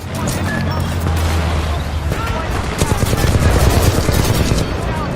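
Rapid bursts of automatic fire from the Flatline rifle in the first-person shooter Titanfall 2, loud and close, with dense overlapping shots and impacts over a low rumble of game noise.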